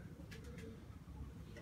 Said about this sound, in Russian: вот этот голубь, голубка, видите?